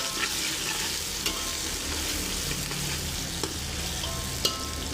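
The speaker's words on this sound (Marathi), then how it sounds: "याच्यात घालायचे जिरे ताड ताड तार तार ताड वाजते" Steady crackling and sizzling of seeds in hot oil, with occasional sharp pops standing out over a continuous frying hiss.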